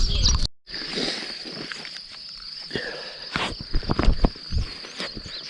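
Insects in a summer field give a constant high, thin chirping drone, heard up close with rustling and footstep-like shuffles over it and a brief cut near the start.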